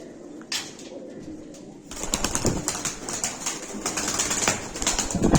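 Pigeons coo and flutter nearby, with wing flaps and rustling growing busier and louder after a quieter start.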